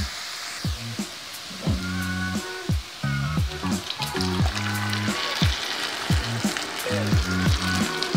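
Tomato sauce pours into sizzling fried vegetables for borscht, a steady loud frying hiss with crackles and clattering stirring knocks throughout, no talk.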